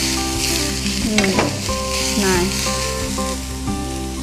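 Carrot and beans being stir-fried in a pan, a steady close sizzle with scraping and stirring strokes throughout, and no one talking.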